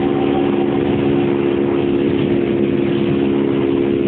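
A 100MG Süperboy motorcycle engine drones steadily while riding slowly, a constant low hum with a buzzing mid-tone and no speech over it.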